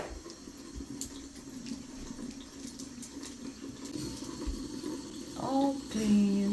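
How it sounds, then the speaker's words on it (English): Tap water runs steadily into a sink as a child washes their face at home, a continuous close splashing flow with louder gushes and brief higher tones near the end, with faint talk in the background. "Yeah, wash your face."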